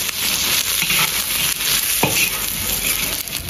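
Deep-fried bean worms tossed again in a hot wok with scallion, ginger and garlic, a loud close sizzle with a spatula scraping and stirring and one sharp clatter partway through.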